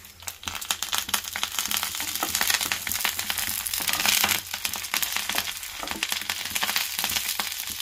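Dried red chillies and whole spices sizzle and crackle in hot oil for a mixed leafy-vegetable curry, a loud continuous frying hiss with sharp pops and crackles, and no one talking.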